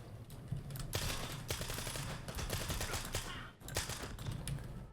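Suppressed SMG firing AP rounds in Stalker 2 gives short bursts of sharp, clattering shots in quick irregular clusters, fairly close, with a brief pause near the end before more firing.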